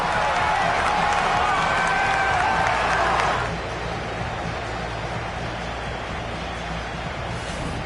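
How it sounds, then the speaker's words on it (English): A stadium crowd applauding after a trophy win in the FC 26 football video game, a loud, dense wash of clapping that drops to a lower, steady level partway through. "as the players applaud the fans who've been backing them today"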